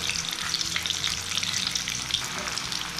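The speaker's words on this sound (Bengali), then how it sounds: "আলুগুলো লাল লাল করে ভাজতে হবে" Potato pieces frying in hot oil for a Bengali hilsa fish biryani, a steady close crackling sizzle that runs unbroken without voices.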